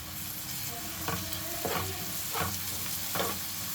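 Ginger and garlic fry in a pan for egg masala curry, a close, even sizzle broken by a few brief scraping stirs of a spoon against the pan.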